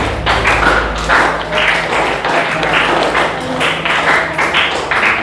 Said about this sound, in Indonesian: Tepuk tangan dulu buat Bayu.